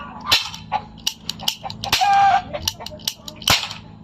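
Sharp cracks from a toy cap gun fired several times at irregular intervals, each pop loud and close, with faint background noise between shots.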